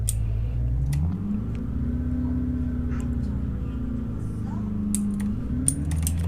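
A low, steady hum from an older Kia K5 engine in Euro Truck Simulator 2, with a gradual rise and fall in pitch, alongside faint clicks and ticks.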